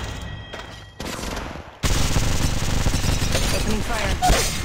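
Rapid automatic gunfire from Apex Legends rattles in a dense, loud stream after a brief quieter opening, steady and close, with game voice lines mixed in.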